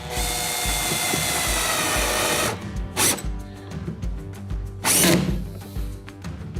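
A screw being driven through a Hobie Mirage Passport 12 kayak hatch into its backing ring, with a steady power-driver whir for a few seconds, then short separate bursts as the screw seats, close and loud.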